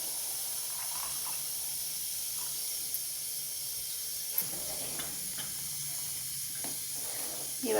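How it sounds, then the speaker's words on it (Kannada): A pot of gojju curry, sweetened with jaggery and thinned with water, simmers on the stove with a steady low hiss and faint scattered bubbling, quiet and close. "ಇವಾಗ ಇದು ಗೊಜ್ಜು ಕುದೀತಾ ಇದೆ"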